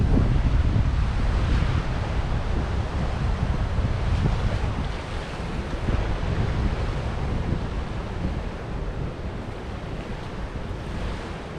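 Strong wind after a hurricane, beside a flooded river, roars and buffets the microphone continuously, a loud rumbling rush with gusts that ease slightly toward the end.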